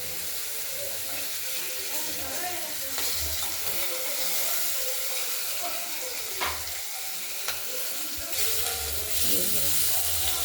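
Tomato fries in a pan for a tilapia fish curry with potato and beans, a close, continuous sizzle and hiss broken by occasional stirring scrapes and clinks, a few muffled background sounds underneath.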